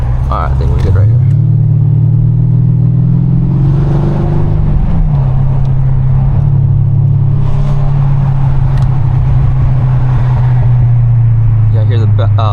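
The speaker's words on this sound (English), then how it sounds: "Yeah, I hear the burbles." A Mercedes in sports mode drones steadily, loud and close. Its exhaust burbles, with a few faint pops, while people talk over it inside the car.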